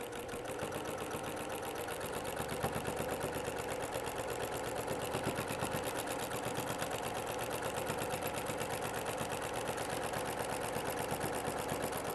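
Sewing machine fitted with a walking foot stitching in the ditch through quilted fabric, a rapid, even mechanical chatter of needle strokes running continuously and fairly close.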